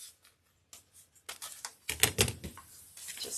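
Snipping a pipe cleaner tail on a fresh evergreen wreath: a few faint clicks and cuts, then closer rustling and crisp snips of the cutters against needles, quiet and close with no talk.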